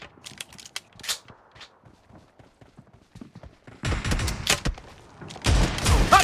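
Bursts of shotgun fire in the mobile battle game PUBG Mobile, with quiet footstep-like ticks giving way to loud, dense blasts in the second half.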